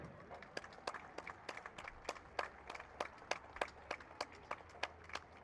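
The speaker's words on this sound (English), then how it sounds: "can we please offer a round of applause for all of our servicemen and women here on this Veterans Day" Sparse applause from a football game crowd honoring servicemen and women on Veterans Day, individual claps standing out as distinct, fairly regular sharp hits over a low steady background hum.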